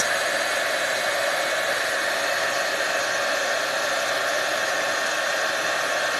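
Heat embossing tool blowing hot air over embossing powder, a steady close hair-dryer-like whoosh and whine, constant and unbroken with no talking.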